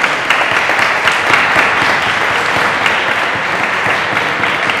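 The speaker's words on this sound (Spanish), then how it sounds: "Otro aplauso para mí" An audience at the close of an evening event applauds loudly and steadily, a dense, continuous roar of clapping with no talk over it.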